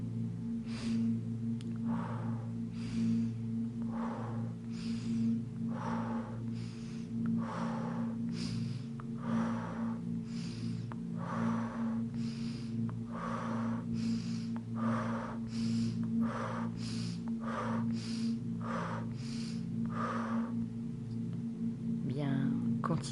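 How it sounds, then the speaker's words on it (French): Rapid rhythmic breathing during a guided meditation exercise, about twenty-five quick breaths at an even pace over a steady low background hum, close and clear with no talking. "Maintenant, vous allez accélérer le rythme de votre respiration."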